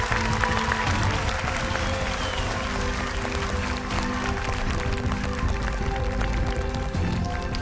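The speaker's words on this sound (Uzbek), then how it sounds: "Olqishlab qo'yamiz." Audience applause at a televised singing competition's final stage, dense and sustained throughout with a steady roar of many hands and faint tonal music mixed in.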